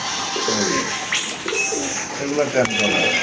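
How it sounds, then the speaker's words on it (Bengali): Pigeons coo in soft repeated throaty rolls close by, with a few wing or cage sounds, while people talk over them in a bird-selling setting. "এদিকে এদিকে পাখি আছে"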